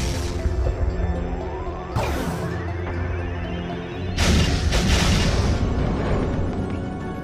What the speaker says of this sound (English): they finally mustered the courage to fire back